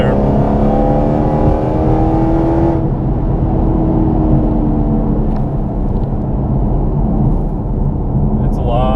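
Supercharged Hennessey HPE750 Camaro SS accelerating hard in third gear with tires spinning, a loud rising engine whine that climbs then settles into a rough, steady roar from inside the car, with someone talking over it.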